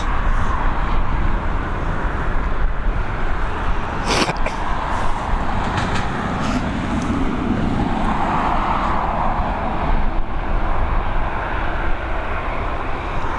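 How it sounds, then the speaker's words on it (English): A TAP Express Embraer E195 arriving from Lisbon lands on runway 28L at Dublin Airport. Its jet engines give a loud, continuous rushing roar with some wind noise, and nobody speaks over it. "we've got an Embraer E195 coming in from Lisbon, operated by TAP Express"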